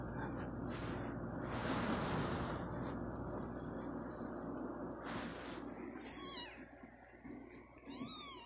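Soft charcoal Bengal cat meows near the end, two short rising calls over steady background noise and faint voices.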